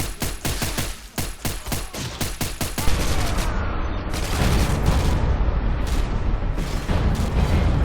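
Sustained gunfire from soldiers in the war strategy game Men of War: Assault Squad 2, opening with a rapid series of sharp shots and then swelling into a dense, continuous roar of fusillade and explosions, loud and close.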